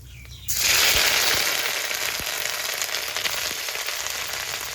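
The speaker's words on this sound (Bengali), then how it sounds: "এবার কুড়িয়ে রাখা নারকেলটা তেলের মধ্যে দিয়ে দেবো" Grated coconut tipped into hot oil already holding whole mustard seeds and cumin, breaking into a loud, steady sizzle that stays strong and close after the first burst, with faint scraping under it and no voices.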